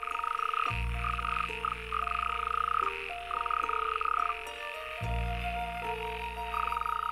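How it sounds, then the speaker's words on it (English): Male frogs call loudly and continuously at a pond, layered repetitive croaks in pulsing trains from several animals, some close and full, with brief breaks where one chorus drops out and restarts. "They will spend 1 or 2 weeks croaking, waiting for a continuous line of females to approach their noisy pond."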